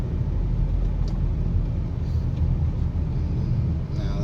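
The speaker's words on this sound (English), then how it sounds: "Now that is a big truck." A big truck rumbles past on a road in Egypt, a steady loud low engine drone filling the whole stretch with traffic noise around it and no speech.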